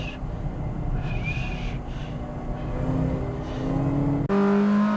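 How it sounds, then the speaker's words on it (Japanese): A 570 hp Ferrari engine racing hard on a track, a loud continuous roar climbing steadily in pitch under acceleration, then a sharp gear change and a higher, strained wail to the end. "570馬力のフェラーリパワーが炸裂。"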